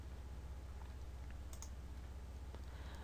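Quiet, fast tapping on a computer keyboard mixed with a few mouse clicks, close and soft against a low hum.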